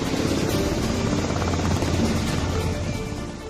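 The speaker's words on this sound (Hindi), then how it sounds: "MH-60R Romeo helicopter." An MH-60R Romeo navy helicopter, shown at INS Hansa in Goa, gives a steady, loud rotor and engine roar that holds at a near-constant level and eases slightly at the end. No one speaks.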